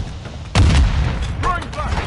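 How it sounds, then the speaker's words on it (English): A sudden heavy blast from a grenade explosion in the Modern Warfare 2 campaign, thudding loudly partway in and rumbling on briefly, with gunfire and faint voices after. "Grenade out."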